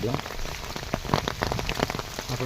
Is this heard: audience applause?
no